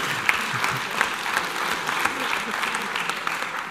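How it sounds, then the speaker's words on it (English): An assembled audience applauds, producing a full, steady roar of many hands clapping that holds for the whole stretch, with scattered sharper claps standing out near the front. "I want to give everybody a round of applause here today for showing up."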